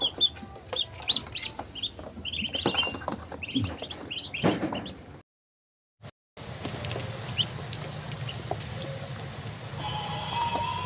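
Young week-old chicks cluck and peep loudly up close while pecking at lunch feed, a dense chorus of calls that cuts out briefly midway and then resumes under steady background noise.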